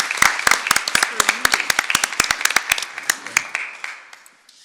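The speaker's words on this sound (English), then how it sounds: "please join me and give them a round of applause" Applause breaks out from the audience at a school board of trustees meeting, a burst of sharp, uneven claps that thins out and fades over a few seconds, heard alone without talk.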